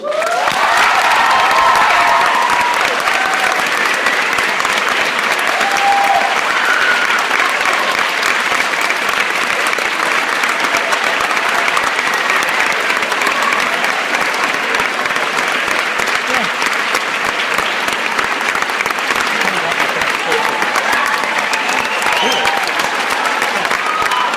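An auditorium audience at the School of the Art Institute of Chicago gives loud, sustained applause for George Lucas coming onstage, with scattered cheers and whoops mixed into the continuous clapping throughout.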